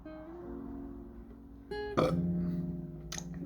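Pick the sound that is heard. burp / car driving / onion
burp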